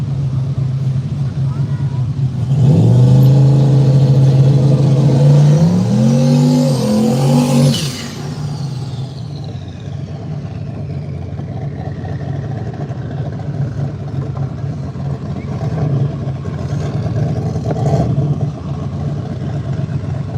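Chevrolet El Camino and Chevy Camaro engines revving at a drag race, rising and falling rev sweeps for several seconds, then a car pulling away into a fading roar, followed by lower idling and occasional revs.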